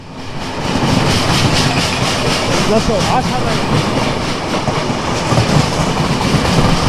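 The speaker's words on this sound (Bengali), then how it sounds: "এক পাশে হচ্ছে আমাদের সিলাটি এক্সপ্রেস ট্রেন" Bangladesh's Chilahati Express rolls along the rails with a loud, continuous rumble and rhythmic clickety-clack from the wheels, heard close from inside the train.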